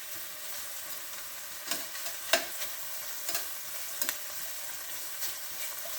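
Onions fry in oil in a pan with a steady, close sizzle, broken by several sharp scrapes and clinks as they are stirred, with no talking.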